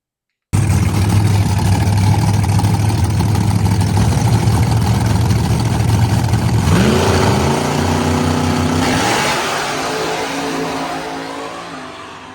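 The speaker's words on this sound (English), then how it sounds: "two compressed air supercharging cars going down the track at the same time" Two compressed-air supercharged race cars idle with a heavy, steady drone, then roar as they accelerate away down a track, the sound climbing in pitch and gradually fading into the distance.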